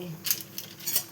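Maggi noodles are stirred in a metal pan, a spoon scraping and clinking against the pan in three quick strokes, close and fairly loud.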